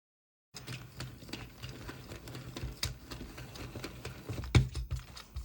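An Addi Egg knitting machine is cranked by hand, giving a steady run of close, dry plastic clicks and ratcheting taps, with one sharper knock near the end.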